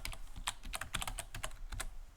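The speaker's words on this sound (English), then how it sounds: "Make sure I type that correctly." Rapid keystrokes on a computer keyboard as a terminal install command is entered in Ubuntu, a steady run of close, crisp clicks with no talking.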